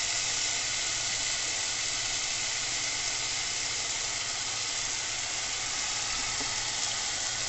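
Chilli paneer stir-frying in a pan with red and green chilli sauces, a steady broadband sizzle and hiss running continuously at even level, with no voices.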